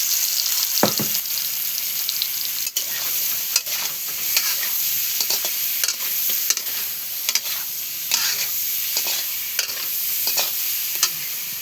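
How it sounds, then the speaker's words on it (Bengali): Fish frying with browned onions in a pan for a cauliflower fish curry: a continuous close sizzle broken by frequent sharp scrapes and clacks of stirring, and no voices. "আমার এখন পেঁয়াজটা ভাজা ভাজা হয়েছে। আমি এখন মাছটা একটু দিয়ে দিই।"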